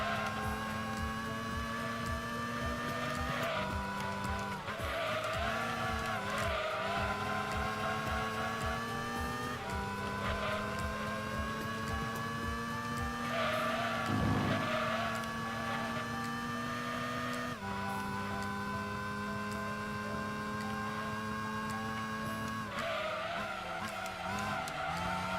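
A race car in Gran Turismo 2 skids across a track, tires squealing in long sweeps over a steady, loud engine drone that shifts pitch as it accelerates and brakes, continuous throughout.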